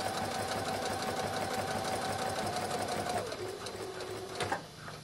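A sewing machine runs a steady, close seam up an angled line on an empire waist swim dress, humming continuously for several seconds before slowing and stopping with a soft clunk.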